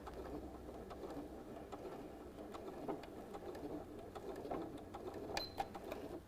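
A sewing machine stitches quilt binding slowly toward the corner. The quiet, steady whir comes with faint, rapid needle ticks and runs continuously at low volume.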